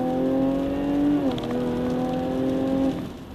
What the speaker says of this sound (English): The XE Sport is fitted with the 3-liter supercharged V6 engine of the F-Type V6.